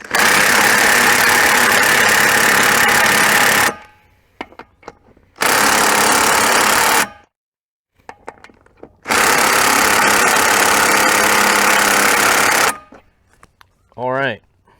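A DeWalt impact wrench on a cheap 18V battery hammers at nuts torqued to 65 pound-feet in three loud sustained bursts, separated by gaps with clicks, ending with a brief short burst.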